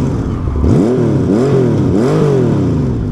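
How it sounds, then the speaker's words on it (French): A Honda F6C flat-six motorcycle engine revs up several times in quick succession, its pitch rising and falling in smooth swells, loud and close with no talk over it. "Je vais vous la faire accélérer un petit peu."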